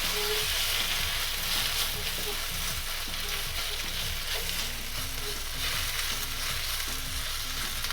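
Noodles stir-frying in a hot pan for vegetarian beef chow fun, with a steady loud sizzle and repeated scraping and tossing strokes throughout.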